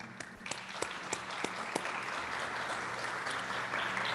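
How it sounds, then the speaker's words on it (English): Audience applause at a mayoral debate for the Unified Government of Kansas City, Kansas and Wyandotte County, a dense, steady clapping from a crowd that holds at an even level throughout, without talk over it. "Round of applause, please."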